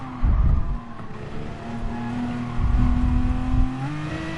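A race car in Gran Turismo Sport brakes hard and shifts through gears, its engine note dropping and rising in a loud, close drone with a faint tire scrub, no talking.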